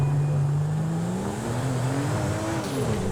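A modified car engine in GTA 5 drones steadily and loudly, its pitch sliding up and down as it revs, with a faint tire squeal, alone with no talk.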